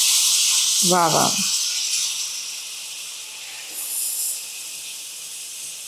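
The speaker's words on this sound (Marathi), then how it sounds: "हे गरम गरम दूध थोडं थोडं करत कॅरमलवर टाकायचं, म्हणजे कॅरमलची कुकिंगची प्रक्रिया थांबते" Hot milk hits cooking caramel in a pan, giving a steady broad hiss of sizzling and steam that fades gradually, with a brief swell later on. A voice briefly exclaims near the start.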